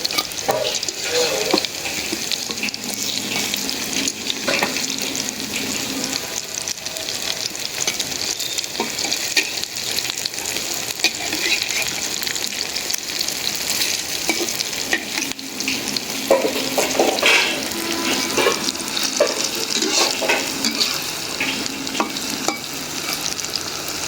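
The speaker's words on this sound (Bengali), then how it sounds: "কম জলে ভাজতেছি কি সুন্দর ভাজা হয়েছে" Bora fritters frying in a pan give off a continuous, close crackling sizzle, broken by intermittent scrapes and stirs, steady throughout with no speech.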